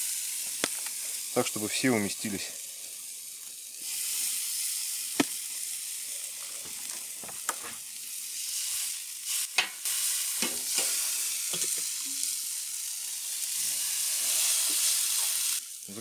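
Chicken legs for pulled chicken laid on a charcoal grill give off a steady, bright sizzle and hiss, with brief scraping handling noises and someone talking over it.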